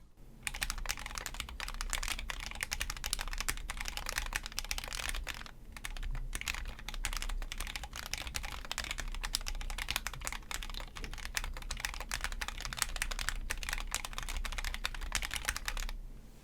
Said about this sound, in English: But of course, let's get into the typing test.